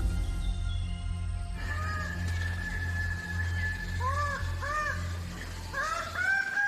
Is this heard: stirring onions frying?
no